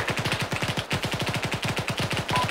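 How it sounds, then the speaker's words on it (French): Rapid automatic gunfire in the video game Arma 3, a fast continuous stream of loud, punchy shots, dense and relentless throughout. "J'entends ses coups de feu, j'entends ses coups de feu."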